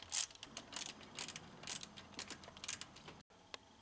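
Ratchet turning camshaft bolts on the engine of an Audi 100 / A6 C4 six-cylinder, a rapid run of close, fairly quiet clicking bursts with a brief pause near the end.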